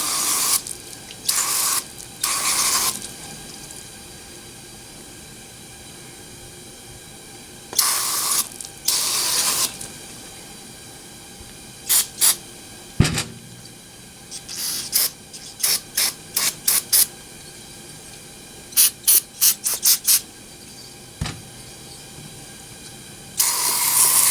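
Several bursts of aerosol parts cleaner spray hiss loudly into parts of a Poulan 42cc chainsaw, some brief and some held for a second or two, with a few sharp mechanical clicks between them.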